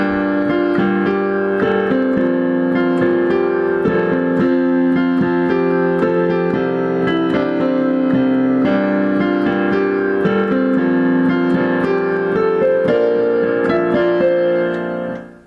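Piano plays the opening of a song, sustained chords with a melodic line over octave bass moving from F down to C, steady and close for about fifteen seconds with no talking.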